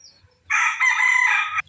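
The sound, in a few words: pet chickens crowing and clucking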